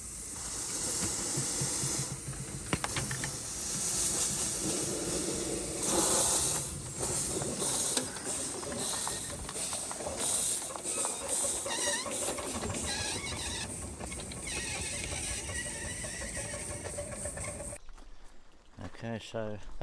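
Live steam model locomotive with a new fire grate, running and hissing steam in a steady, loud, broadband rush with fluttering variations, ending abruptly in near-silence.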